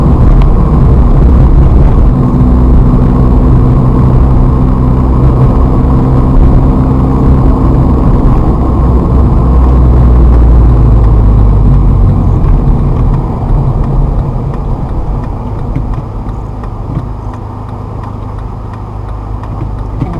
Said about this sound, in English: clutch up to bite, little bit of gas, gonna keep it in first gear, go across the intersection, shift